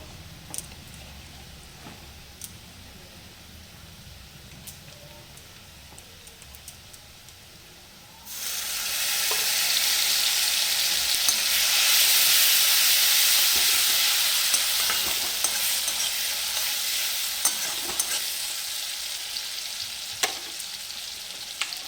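Onions frying in a pan with sugar added for mutton curry, quiet at first with small clicks, then a loud, steady, close sizzle that hisses on with occasional stirring knocks.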